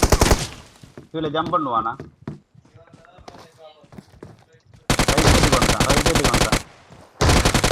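Rapid automatic gunfire from a shooting video game, loud dense bursts in two stretches, the second cut by a short pause, with excited players talking over it and quieter game sounds between.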